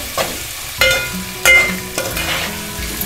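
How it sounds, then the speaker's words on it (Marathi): Spice masala, including goda and Kashmiri masala, sizzles in a pan for veg pulao while a spoon scrapes and stirs it, with several distinct stirring strokes over a steady close frying hiss. "1-2 मिनिटं व्यवस्थित फ्राय करून घ्यायचं आहे"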